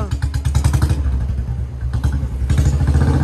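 A motorcycle engine thumps close by at a rapid, even idle. The pulsing fades briefly, then the engine returns strongly near the end.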